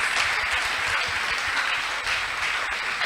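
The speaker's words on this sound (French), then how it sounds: "Est-ce qu'on peut acclamer pour ces femmes?" An audience in a talk-show hall applauds the women, steady dense clapping that holds evenly from start to finish, moderately loud and filling the room, with no talking over it.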